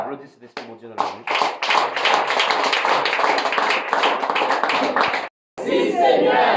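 A church congregation claps along during worship, rhythmic hand claps mixed with loud singing and shouting voices over several seconds, with a brief break near the end.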